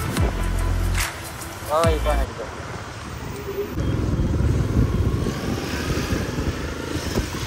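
Road traffic in a jam with cars, a bus and motorcycles droning past, including a motorcycle buzz, heard loudly and continuously with voices talking over parts of it.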